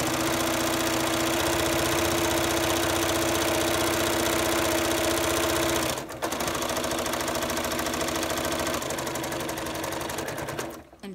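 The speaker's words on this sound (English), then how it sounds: "Make sure you keep your needle down when you're turning those corners." A sewing machine stitching the seams of a child's apron, running steadily and rapidly, close up, with a brief pause near the middle before the rhythmic stitching picks up again and then stops.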